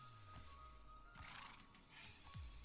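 A horse in Minecraft gives a few short whinnies and snorts at low volume, spaced irregularly among soft game sounds, with a faint tonal hum in the background.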